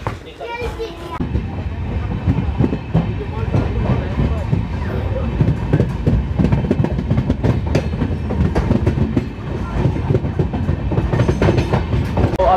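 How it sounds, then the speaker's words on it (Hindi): The Amravati Express from Jabalpur to Nagpur pulls out of a station at night with a loud, continuous rumble and clattering wheels over the rails. Scattered voices and bustle sound in the background. "तो चलिए मैं आपको दिखाता हूँ इस ट्रेन का यहाँ से डिपार्चर"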